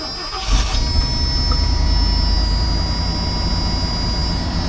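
The engine of a 1984 Rolls Royce cranks briefly and catches, then settles into a steady, loud idle that runs on evenly for several seconds.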